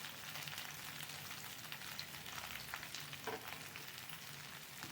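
Chopped onions fry in oil for okra rasam, giving a faint, steady sizzle and crackle with a low background hum, heard close and unbroken.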